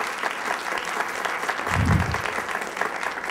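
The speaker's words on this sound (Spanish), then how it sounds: "Le damos un aplauso, por favor, al doctor Alejandro." An audience claps for a doctor at a conference session, a steady wash of applause that swells briefly in the middle and then settles back to an even patter.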